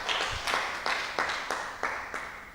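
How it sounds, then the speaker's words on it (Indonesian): A church congregation claps in praise of God, a run of loud, evenly spaced claps at a steady rhythm that sound close and slightly reverberant. "Tepuk tangan dulu buat Tuhan yang ajaib"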